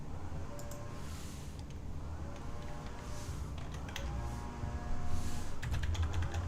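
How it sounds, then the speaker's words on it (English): Fingers type on a computer keyboard, quiet rapid clicks in irregular bursts with a few louder keystrokes near the end, heard alone without talk. "I'm literally typing it in."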